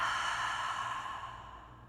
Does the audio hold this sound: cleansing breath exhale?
yes